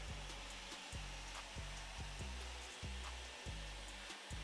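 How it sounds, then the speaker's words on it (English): A handheld blow dryer drying hair during a barber's mid fade haircut produces a loud, continuous airy whir, close to the listener, with a faint rhythmic pulsing as the brush works through the hair. "holding the blow dryer in front of it for a second or two"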